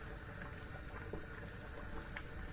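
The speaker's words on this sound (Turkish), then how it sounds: "Arkadaşlar melemenim çok güzel bir şekilde kaynıyor." A pot of menemen bubbling steadily at a low simmer, a continuous soft boiling burble close by with no voices.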